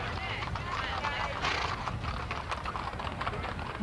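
Black horses of a troupe trot along a summer parade route, with rhythmic clip-clop hoofbeats on pavement blending with crowd noise and nearby voices.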